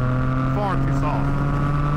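A Triumph Tiger 660 sport-touring motorcycle runs at full throttle, its engine droning steadily with a strong low hum, wind rushing over it, and a brief rising and falling pitch midway.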